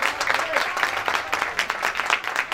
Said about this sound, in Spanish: Aplausos para Daniel.